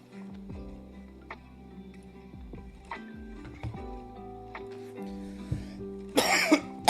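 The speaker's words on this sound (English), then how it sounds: "Freaking cough, man" A person coughs repeatedly in a quiet room while working at a computer, several short harsh bursts spread over a few seconds with light clicks between them and a louder, rougher cough at the end.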